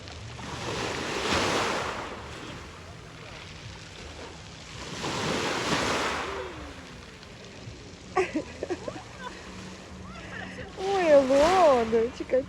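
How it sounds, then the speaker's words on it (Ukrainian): Waves washing in and out in broad surges, with people talking and laughing nearby over the water noise. "От наче і хвиля невелика, да, тягне."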